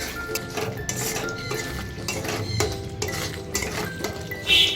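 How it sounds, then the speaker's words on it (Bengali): A metal spoon scrapes and clinks against a pan while ground spice paste for egg korma is stir-fried, with a faint sizzle under a steady run of close scraping strokes. "আবারও একটু ভালো করে কষিয়ে নেব"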